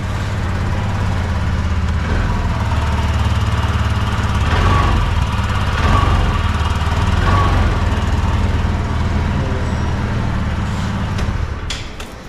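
TVS Jupiter 125 BS6 scooter engine running steadily at idle through its exhaust, a loud, close, even putter that holds for the whole stretch before easing slightly at the end.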